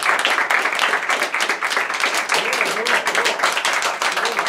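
Applause rises from the crowd at the final of a weekday Tokyo beatbox battle, a sustained, fairly loud patter of many hands, with a voice briefly audible underneath midway.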